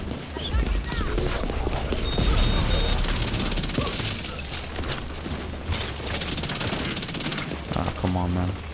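The Chatterbox SMG in The Division 2 fires in dense, rapid bursts that run almost nonstop, loud and close, with other game sounds mixed underneath.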